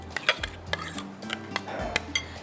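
A spoon stirs a fruit custard mixture in a bowl, with short clinks and scrapes against the sides in a quick, uneven rhythm, close and moderately loud.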